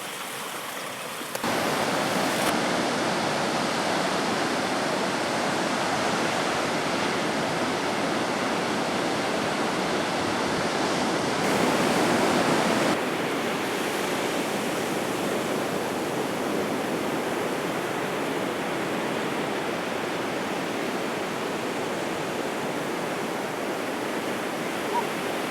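Continuous broadband rush of spring water flowing out of the ground on Stradbroke Island, steady and fairly loud, like a stream, with no voices.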